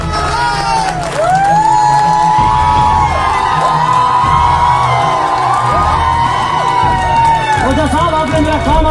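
A shayari show audience cheers, whoops and applauds loudly and continuously, crowd noise filling the whole stretch, with a performer's voice carrying over the top.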